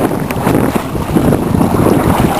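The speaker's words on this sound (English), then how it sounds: "Here we are sailing along in our sailboat" A small homemade plywood sailboat skims across a dam, with steady wind buffeting the microphone and water rushing and slapping along the hull, continuous and close throughout, no talking.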